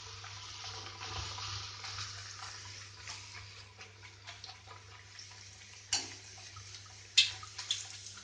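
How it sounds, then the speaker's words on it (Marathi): Goan rice-flour vade fry in hot oil over a medium gas flame, with a soft, continuous sizzle and a few sharper pops and spatters toward the end. "आता आमकां तातूंत हे केल्या ते वडे घालून तळून घेवपाक जाय।"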